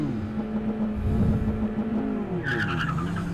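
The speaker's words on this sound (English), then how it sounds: "Vernon Jolly and Glenn Hurricane Hernandez driving a borrowed cars out there" Cars on an autocross course squeal their tires through a turn, engines revving and droning nearby, with a sharper skid rising toward the end and no talk.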